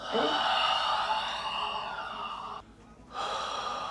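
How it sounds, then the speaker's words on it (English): An injured person takes a deep breath: a long, close, airy inhale, a short pause, then an exhale, with no talking. "Take a nice deep breath in and out."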